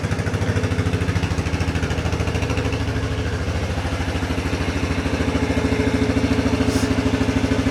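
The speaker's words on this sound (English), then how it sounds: "So I'm gonna just let it idle and warm up a little bit before I start tinkering too hard." A Yamaha Big Bear 350 quad, left sitting for years, idles loudly and close to warm up, a rapid steady single-cylinder chug with clattering mechanical noise throughout.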